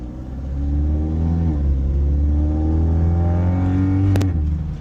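A modified Audi S3 engine revs hard and close, its drone climbing and falling in steady sweeps before a sharp, brief snap near the end.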